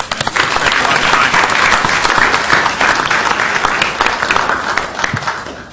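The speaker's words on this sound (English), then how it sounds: "give them all a big round of applause" Round of applause in a city council meeting chamber, dense and loud clapping from a room full of people that runs steadily for several seconds before tapering slightly.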